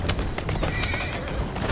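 A horse whinnies in Assassin's Creed Syndicate over a steady background of game sounds and hoofbeats, a short, bright neigh close up.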